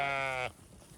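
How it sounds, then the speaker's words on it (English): A sheep gives a single loud, harmonic bleat at close range that breaks off abruptly halfway through, leaving quiet outdoor farm ambience on a farm where loose sheep are being gathered with a bucket of grain. "Well, I got the sheep back."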